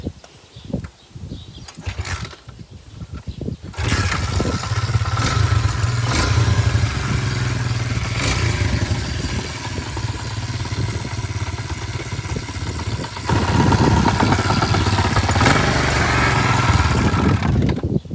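A Yamaha YZ250F dirt bike with a loose skid plate just tightened is kicked over and fires up, then runs with a loud, steady rattling engine note close by, rising briefly near the end, with no talk.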